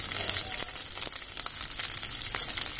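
Stuffed potatoes frying in a pan over a low gas flame give a steady, close sizzle with soft crackles and occasional pops throughout, with no voices.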